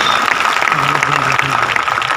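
An audience claps enthusiastically in a short, dense burst of applause, while a voice and a low tonal hum run underneath.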